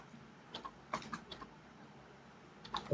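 A computer keyboard is typed on in a few sparse bursts of quiet, close clicking keystrokes with pauses between them.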